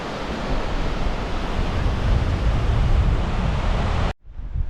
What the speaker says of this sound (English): There's that wind coming.